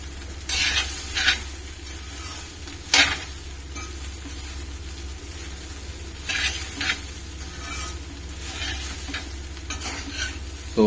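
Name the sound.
stirring rice into chicken fried rice in a pan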